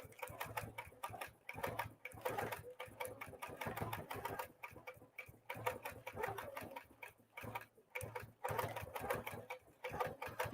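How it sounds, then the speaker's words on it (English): A sewing machine runs in cruise mode while stitching a free-motion figure-eight pattern, producing bursts of rapid mechanical chatter separated by short pauses, fairly quiet and close. "I'm using cruise mode. It's going to keep stitching."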